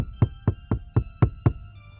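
Six steady knocks come from inside a casket, evenly spaced and fairly close, dull and hollow, with no other sound around them.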